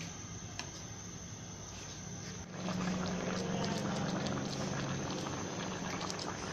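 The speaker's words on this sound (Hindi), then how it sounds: "हमारे कीमा को बॉयल आने शुरू हो गए हैं" Minced meat keema cooking in a pot as it comes to a boil, a quiet bubbling patter that swells after a couple of seconds into a steadier, fuller simmer.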